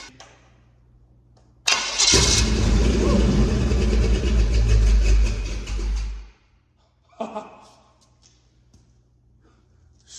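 A Chevy big block engine swapped into a Honda Ridgeline cranks and fires at about two seconds, then runs loud and rough for roughly four seconds before shutting off, with a brief bump of noise afterward.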